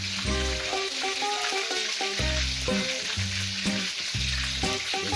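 Chicken frying in a pan at home, a loud, continuous sizzle and crackle with occasional stirring, up close and with no voices.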